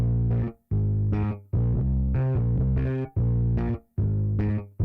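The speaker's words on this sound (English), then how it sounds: "the next thing we did is we laid down some bass, which standalone sounds like this." A solo bass line from a pop production plays alone as five sustained, slightly distorted phrases separated by brief gaps.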